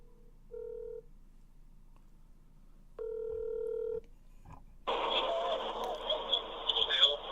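Touch-tone telephone dialing for a call placed during a live broadcast: two short steady keypad beeps, then a longer one, followed by a louder burst of ringing line noise, all fairly close and clear with no talk over it.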